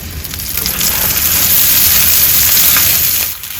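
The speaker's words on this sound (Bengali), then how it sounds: "এবার কড়াইয়ের মধ্যে একটু তেল দিলাম আমি এবার এটার মধ্যে যে পেস্ট করে রেখেছিলাম সেটা দিয়ে দেবো" Ground spice paste hits hot oil in a wok and fries with a loud, dense, close sizzle that swells quickly, holds steady, then eases off near the end.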